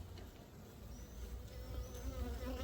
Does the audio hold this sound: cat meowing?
no